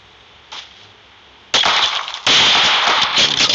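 Bursts of gunfire in the mobile shooter BGMI, a short distant pop followed by two loud, sustained rattling volleys close up, with no talk over them.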